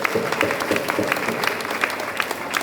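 Audience applause at a Jain Siddhachakra Vidhan completion ceremony and 40th anniversary celebration, a steady wash of clapping hands filling the room at close range for a few seconds with no voices over it.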